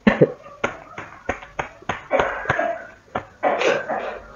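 Several sharp coughs in irregular bursts, close by, with a throat clear among them and no talking, from someone with a cold and flu.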